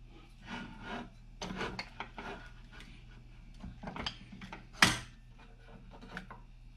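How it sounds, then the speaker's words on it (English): A hand tap starts threads in four holes in a Harbor Freight Daytona crossbeam attachment, giving faint rasping, grinding turns with metallic clicks and one sharper clank, all close and without speech. "I'm going to take my tap and I'm just going to start the four holes"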